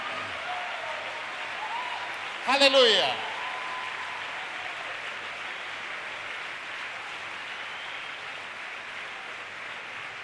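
Applause honoring pioneers at a large YWAM Together 2018 ministry gathering in Thailand, a steady crowd-wide patter filling the whole stretch behind a voice calling out once, with a brief louder burst of sound rising over it early on.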